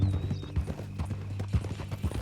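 Horse hooves clip-clop at a steady walking rhythm in the Red Dead Redemption video game, moderately close over a low ambient hum, with a faint voice briefly present.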